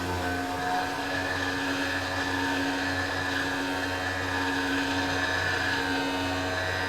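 Tormach PCNC 1100 CNC mill cutting a deep, thin-walled pocket in 1-inch-thick aluminum with coolant spraying from a nozzle, producing a steady, dense whine with sustained tonal hum, continuous and close throughout.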